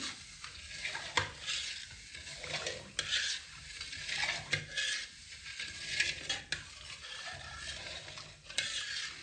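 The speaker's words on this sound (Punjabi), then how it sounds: "ਦੁੱਧ ਨੂੰ ਆਪਾਂ ਲਗਾਤਾਰ ਹਿਲਾਉਂਦੇ ਹੋਏ ਚੰਗੀ ਤਰ੍ਹਾਂ ਗਾੜਾ ਕਰ ਲਵਾਂਗੇ" Milk and sugar for carrot pak stirred in a pan over high heat, a spoon scraping and swishing in repeated rhythmic strokes over a soft simmer, close and moderately loud.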